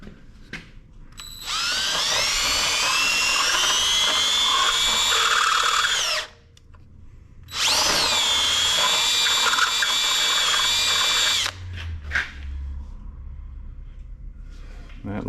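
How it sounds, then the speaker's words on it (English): Handheld deburring tool relieving the outside edge of a new cylinder head on a 2014 Dodge Avenger 2.4L engine, heard as two sustained whirring, grinding passes of several seconds each with a short pause between, close and loud. "So I'm gonna get a deburring tool and just kind of relieve that outside edge there"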